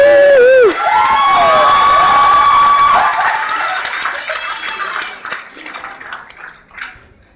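Audience at a pharmacy school formal masquerade breaks into cheering and shouting with some clapping, loud at first then thinning out over several seconds.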